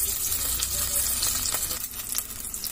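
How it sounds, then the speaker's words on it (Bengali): Masala spice paste with green chillies frying in a pan for prawn dum biryani, a close, steady sizzle with scraping stir strokes throughout. "এবার আমি মশলাটাকে খুব সুন্দর করে এরকম করে ঘুরিয়ে ঘুরিয়ে ভেজে নিচ্ছি"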